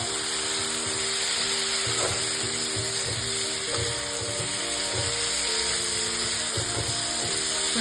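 Soybean curry masala sizzles steadily in hot oil in a pan, a close, continuous frying hiss with light scraping and stirring clicks and no talk.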